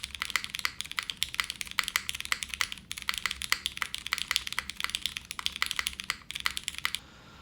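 Fast, steady typing on a MONOKEI Kei v2 gasket-mounted mechanical keyboard with a copper case, a dense run of crisp keystroke clacks close up that stops abruptly near the end.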